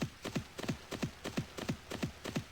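Hooves of a horse-drawn wagon mount clip-clop in Mabinogi, a steady rhythm of about eight doubled hoof beats, close and moderately loud with no speech.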